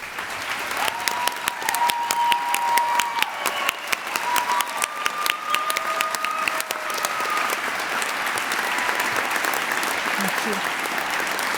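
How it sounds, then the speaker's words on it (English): A graduation ceremony audience applauds the teachers with a steady wash of clapping, while a voice speaks over the first half, fairly close and moderately loud. "Would the teachers please stand for a round of applause?"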